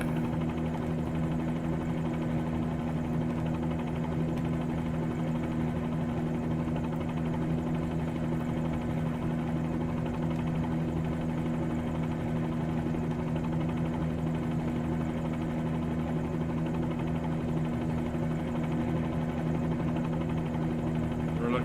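Bell 47G helicopter in flight over Pearl Harbor, its engine and rotor droning loud and steady from inside the cabin for the whole stretch, with a strong low hum and no pauses.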